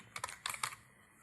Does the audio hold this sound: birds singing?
no